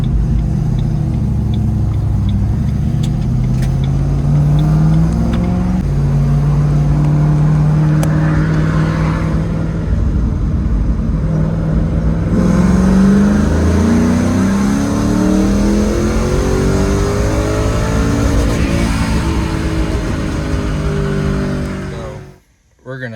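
A Ford Mustang Bullitt engine is revved toward 7,000 RPM: loud, close, repeated climbs in engine pitch that fall back and rise again through the whole stretch, then cut off abruptly at the end.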